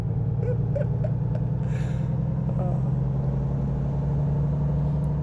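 A truck engine in American Truck Simulator drones steadily, a loud, constant low hum with a strong tonal whine that holds for the whole stretch, with a few faint chirps and a short hiss above it.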